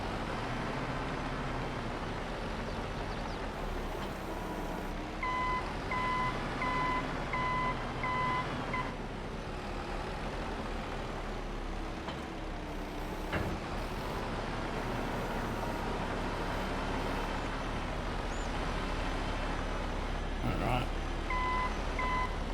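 A skid steer in Farming Simulator 22 is loaded onto a trailer over a steady engine drone, with two runs of regular electronic reversing beeps, and a voice talking at times over the machinery.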